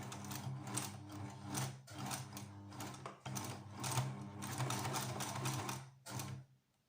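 A sewing machine stitches a fabric face mask, its rapid mechanical whirring running in several bursts separated by short pauses, close and steady, then stopping at the end.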